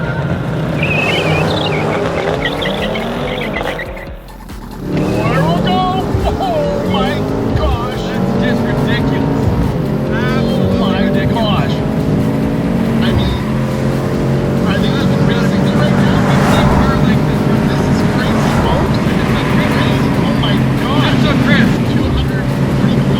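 Mercedes-AMG C63 S E-Performance, C63 S and C63 Black Series cars launch in a drag race, a loud continuous engine roar with wind buffeting and rising pitch, a brief dip before building again.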